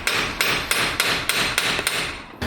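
A hammer strikes at a broken axle on a K20-swapped EG Honda Civic, about eight sharp metallic blows at an even, quick pace, loud and close with no talking.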